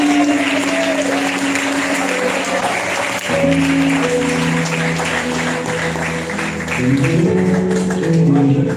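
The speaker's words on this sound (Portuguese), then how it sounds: "Quem toma posse desta palavra esta noite pode aplaudir a Jesus de Nazaré." Applause from a church congregation during an evening sermon, a steady broadband clatter running throughout under sustained organ-like music tones.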